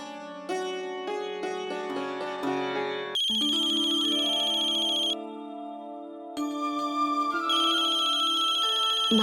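A mobile phone ringtone plays loud and clear, a bright electronic melody of stepped tones that shifts through several phrases with brief gaps, no voices over it.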